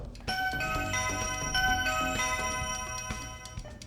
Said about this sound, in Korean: 초인종을 먼저 눌러 주시고요